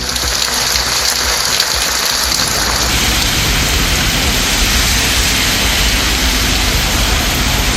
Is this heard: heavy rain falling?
yes